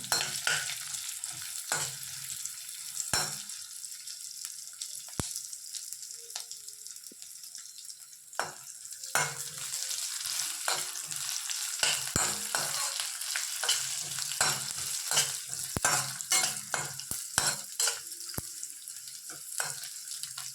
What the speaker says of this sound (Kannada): ತುರಿದಿಟ್ಟಂಥ ಬಾದಾಮಿ, ದ್ರಾಕ್ಷಿ, ಈ ಮೂರನ್ನು ತುಪ್ಪದಲ್ಲಿ ಚೆನ್ನಾಗಿ ಫ್ರೈ ಮಾಡ್ಕೊಳ್ಳೋಣ